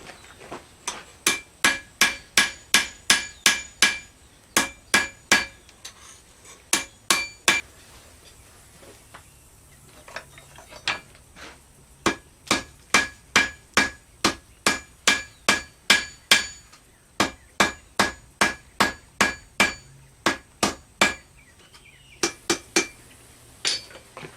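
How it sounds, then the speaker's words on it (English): Rhythmic hammer blows ring out on steel, drawing it into a point for a gar gig fishing spear, in bursts of roughly a dozen fast, sharp, metallic strikes separated by short pauses, close and loud with no talking. "I'm going to draw this out into a point, and then I'm going to forge weld it."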